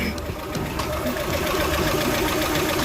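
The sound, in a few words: Hyundai Elantra engine running, power steering gurgling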